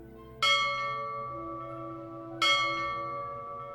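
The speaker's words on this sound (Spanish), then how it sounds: "la campana de la iglesia comenzó a tocar las oraciones" A church bell tolls for evening prayers, with two loud strikes about two seconds apart. Each strike rings on with a long, slowly fading hum, and no voices are heard.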